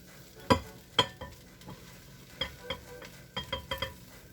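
Fried rice ingredients going into a pan, a few sharp knocks and scrapes of a utensil against the pan over a faint low sizzle, with brief pauses between clusters of hits.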